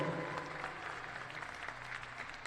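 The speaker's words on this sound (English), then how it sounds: "Nice ovation from the crowd." A crowd applauds the 2025 MVP team members from Caldwell and Georgian Court, a sustained wash of clapping at moderate distance, fairly soft and even throughout.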